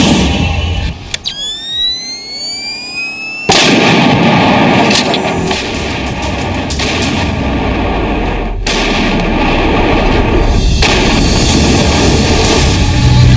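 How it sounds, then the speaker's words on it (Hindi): Bofors artillery guns firing shells in the Kargil hills, heard as heavy booming blasts over a loud continuous rumble, with a whistling descending tone and several sharp reports early on. "कारगिल की सुनसान पहाड़ियां बोफोर्स तोप से निकले गोलों से गूंज रही थी"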